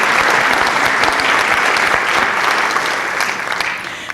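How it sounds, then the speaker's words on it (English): Audience applause for board members and elected officials at an annual community walk event: a loud, full round of clapping from a sizable crowd that tapers off slightly at the close. "Let's give them a round of applause for joining us this evening."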